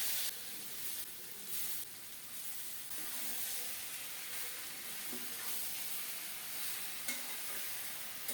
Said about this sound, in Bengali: সরিষার তেল দিলাম অল্প করেই কালো জিরা ফোড়নে দিচ্ছি কালো জিরাটা একটু ভেজে নিয়ে এখন শাক দিয়ে দিলাম